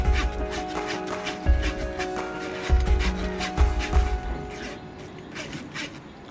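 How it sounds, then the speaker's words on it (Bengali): A spoon stirs and presses raw mango pulp through a strainer, giving repeated soft rubbing and scraping strokes with a few dull knocks, close and steady, with no talking. "চামচের সাহায্যে ভালো করে নাড়তে নাড়তে গ্রেভিটা বার হয়ে এসেছে"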